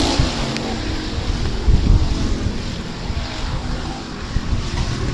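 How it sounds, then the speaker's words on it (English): USRA Hobby Stock race cars in a heat race at a dirt speedway, a continuous broad engine roar that sounds distant and wind-blown, holding steady throughout with no talking. "First of three heat races coming to the checkers for our USRA Hobby Stocks."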